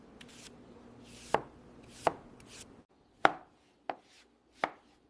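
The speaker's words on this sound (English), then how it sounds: "I cut the potato." A knife chops through a potato on a cutting board, five sharp separate knocks at an irregular pace with soft scraping between them, close and alone without speech.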